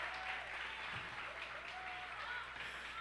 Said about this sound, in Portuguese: Ninguém aplaude não, irmãos?